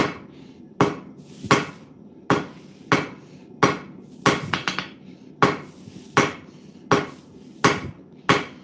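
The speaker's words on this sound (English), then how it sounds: "Dueling hammers." Two hammers strike metal at a blacksmith's forge in a string of sharp, ringing blows about every half second to second. A few strikes land in a quick cluster, and the sound is close and clear with no talking.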